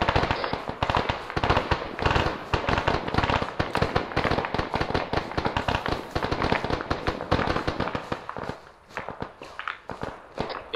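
Rapid bursts of gunfire crackle without a break in a video game firefight between Russian and resistance forces. Dense, sharp pops fill the whole stretch, and the rattle thins briefly near the end.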